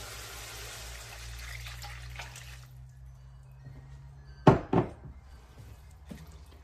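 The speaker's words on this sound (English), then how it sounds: "And then 4 cups of water." Four cups of water stream into a pot for a one-pot rice dish, a steady pouring rush that stops after a few seconds, followed by a couple of sharp kitchen knocks.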